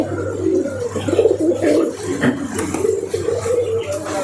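Pet pigeons, a copper-coloured male and a smoke-grey female, coo in low repeated throaty phrases close by, with soft background noise.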